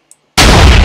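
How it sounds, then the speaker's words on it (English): A loud, sustained burst of explosions from an elemental jungle sword's right-click ability in a Minecraft mod, starting abruptly after a tiny click and roaring continuously without a pause. "this rotating thing of explosions, which deals 3 hearts"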